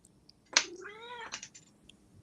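A single clear cat meow, rising then drawn out, close by in a quiet room, with a few small clicks around it.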